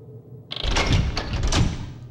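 A locked door rattles and thuds without opening in the horror game Fatal Frame, a short burst of knocking, rattling impacts that comes on suddenly after quiet and carries on for over a second.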